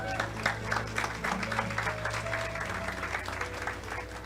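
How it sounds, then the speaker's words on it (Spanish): A church congregation applauds the Lord, giving brisk, rhythmic clapping with a faint murmur of voices beneath it. "Dale un aplauso al Señor."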